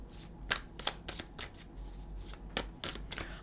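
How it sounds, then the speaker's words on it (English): A deck of tarot cards being shuffled in close, crisp riffling bursts, several quick rustling passes with short pauses between, quiet and alone without talk. "let's go ahead and we're going to pick up the whole deck. And, I don't know why, but let's give it a couple shuffles."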